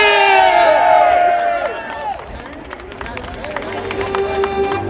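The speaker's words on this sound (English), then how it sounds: "Can you give yourselves a round of applause again?" A crowd cheers and whoops loudly, the excited voices trailing off into scattered applause and murmuring.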